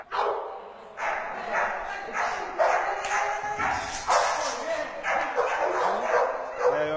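A pit bull growls and yips in short bursts while tugging on a bite toy, with people talking over it throughout.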